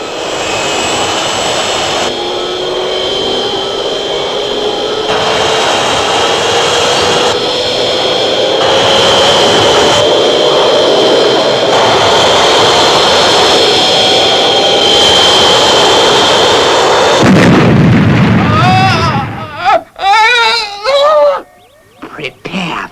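Loud, steady roar of an airliner's jet engines as a sci-fi TV sound effect, with a slowly rising whine, then ending around eighteen seconds in a burst of crash noise and scattered sharp effects.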